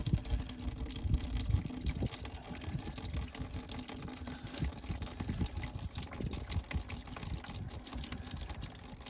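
Water and diesel fuel draining from the fuel filter of a 6.0 Powerstroke, a steady close trickling, splashing liquid stream that runs continuously and fairly quietly without pause.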